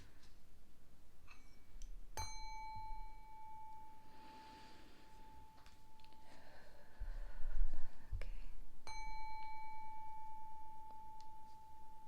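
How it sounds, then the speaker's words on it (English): A small bell struck twice, each a clear bright ring that hangs and slowly fades over several seconds, close and quiet in a calm room with soft breathing between strikes. "I'm gonna ring the bell a couple times."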